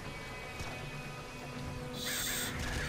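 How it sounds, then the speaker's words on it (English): Crows caw in the video game Nuclear Throne, their calls loud and close over a dense, steady game soundscape, with a brighter burst of effects near the end. "Get out of here, you crows."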